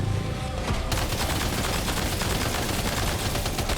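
Sustained gunfire from the player's own weapons in Death Stranding 2 during a boss fight, a dense continuous rattle of rapid shots that stays loud throughout with no talk.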